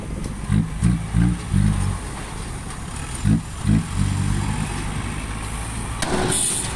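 A bulldozer's heavy diesel engine chugs steadily while pushing earth, with several rhythmic louder throbs of effort rising and falling, moderately distant, no speech.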